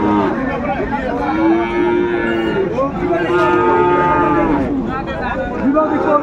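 A Sahiwal bull calf at a cattle market in Dinajpur moos in long, loud, drawn-out calls over a faint background of market chatter.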